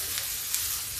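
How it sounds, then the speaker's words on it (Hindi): Spiced batter of turmeric, chili and coriander hits frying onions in a pan for pakora kadhi, giving a steady, close, bright sizzle and hiss that holds evenly throughout with no talking. "ये मेरा घोल है, ये हम डालेंगे इसमें"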